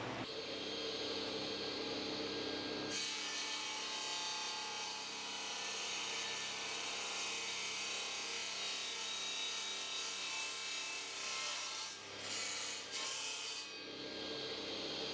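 A handsaw cuts along the edge of a black wattle board, square at 90 degrees for a joint in a side-table build: a steady, continuous rasping drone, close and fairly loud, with brief stutters near the end as the stroke breaks off.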